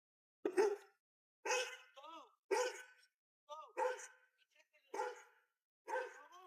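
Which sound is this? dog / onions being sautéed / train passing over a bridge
dog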